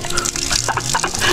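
Water gushing from a hand-pumped well, a steady rushing flow with pumping bursts heard close up, and a few faint background sounds.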